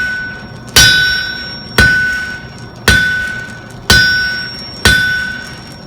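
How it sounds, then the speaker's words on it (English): A cross peen hammer strikes a hot metal leaf on an anvil in five evenly spaced, loud, ringing blows, each clang decaying before the next. "hit it with that cross peen hammer."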